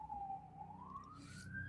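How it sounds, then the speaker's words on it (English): An emergency siren wails outside a window, a single faint, distant tone sliding slowly upward and holding steady. "is the siren out your window? Yeah, the sirens."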